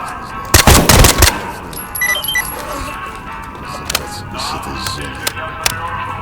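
Gunfire in the shooter game S.T.A.L.K.E.R.: a loud, rapid burst of automatic shots in the first second, then a few scattered single shots and faint clinks over a quiet ambient background.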